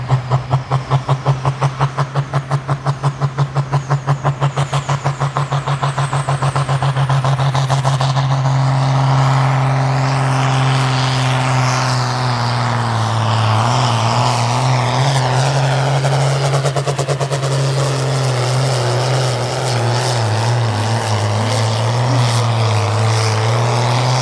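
A six-cylinder, 9-litre tractor in the 4.5-tonne sport class of a tractor-pulling event revs hard, a loud steady engine drone that sheds its early pulsing and climbs into a sustained roar, heard alone without talk.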